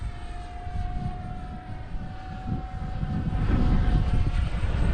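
F-14 aircraft engine in flight at just under half throttle, a steady loud rumbling drone with a thin whine above it, building slightly louder toward the end, with no talking.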